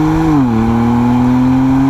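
A 410-horsepower race car on a circuit track accelerates in third gear, its steady loud engine note dipping briefly with the shift and then holding a strong, even drone close to the microphone.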